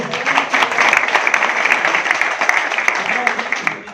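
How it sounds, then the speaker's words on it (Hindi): Parents at an awareness program about private schools break into applause: a loud, lively burst of many hands clapping carries on throughout, with voices mixed in. "एक बार तालियां बजवा दो।"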